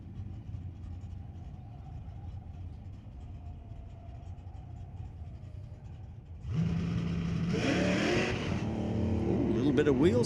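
A street-legal drag car spins its wheels launching down the strip at Mission Raceway, a loud engine roar rising abruptly partway through over steady track ambience and an announcer's voice.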